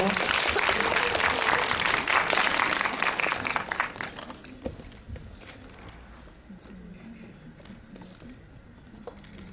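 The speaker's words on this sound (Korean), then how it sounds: "박수로 축하해주세요" An audience applauds at a Korean film preview screening, loud dense clapping for about four seconds that fades into scattered claps and quiet talk.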